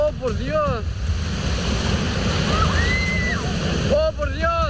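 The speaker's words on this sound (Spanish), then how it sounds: "Fueron olas de más de 2 metros de altura que terminaron por convertir parte de la pista de la Costa Verde en una verdadera piscina" Strong ocean waves over two metres high crash onto a coastal road along the Costa Verde, a loud continuous surging roar with wind buffeting the microphone, while excited voices cry out at the start and end.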